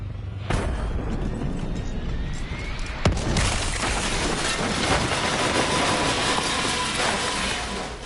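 A giant explosion from a crashing aircraft in a PS4 video game: a loud blast hits early, then a second heavy boom follows, with sustained roaring debris and rumble filling the rest.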